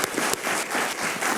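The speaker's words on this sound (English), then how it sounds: "So please give her a round of applause." Applause from an audience at a county commissioners' regular meeting honoring an NCAA Legends and Legacy honoree, steady dense clapping filling the whole moment, fairly loud and close with no talk over it.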